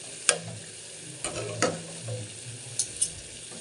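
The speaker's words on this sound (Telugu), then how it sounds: "దీన్ని కలుపుతూ ఉంచుకోవాలి చూసుకొని కలుపుతూ ఉండాలి" A spoon stirs mutton curry in a pot, giving a few scattered scrapes and knocks over a faint sizzle, quiet and close, with no voices.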